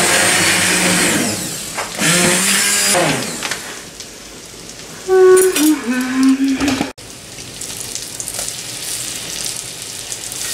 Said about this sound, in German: ich püriere schon mal die Suppe